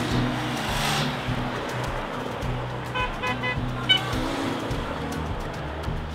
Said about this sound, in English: Look at this, just one huge row of team cars with all the bikes stacked on the roof.